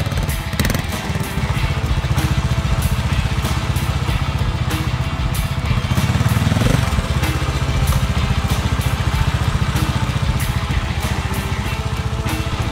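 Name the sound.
trials dirt bike riding over obstacles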